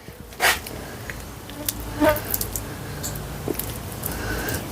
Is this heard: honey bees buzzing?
yes